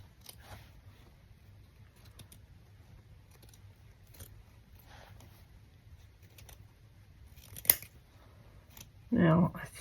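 Scissors cut around a piece of fabric in a quiet room: scattered, soft crisp snips spaced across several seconds, then a brief louder rustle near the end.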